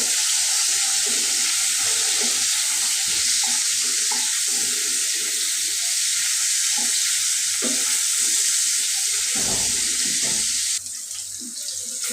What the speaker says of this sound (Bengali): এখন আমি মাছ ভেজে নেব মাছগুলি আমি সব দিয়ে দিলাম